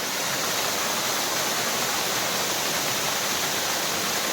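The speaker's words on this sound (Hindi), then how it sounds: "ये देख सकते हैं पानी का झरना।" A steady, roaring rush of rain-swollen waterfall beside a temple, loud and continuous, with no voices over it.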